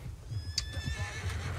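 Horse whinnying in the Red Dead Redemption 2 video game, a clear high neigh with hoof clip-clop and low rumble continuing underneath, heard alone without speech.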